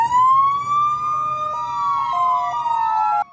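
Ambulances and fire engines wail their sirens together in a memorial convoy for two firefighters killed in a Hsinchu city blaze, loud and close, with several overlapping rising and stepping siren tones held for about three seconds before cutting off.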